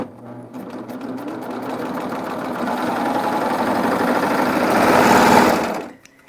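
An overlock serger sewing muslin with differential feed set for ruffling runs steadily for about six seconds. It hums and whirs close up, speeding up and growing louder toward the end before stopping abruptly, with no voices over it.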